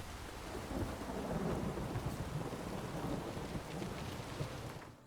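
A thunderstorm in the video game Witcher 3 brings steady heavy rain with low rolling thunder underneath, a dense continuous wash of sound that fades at the end, with no voices.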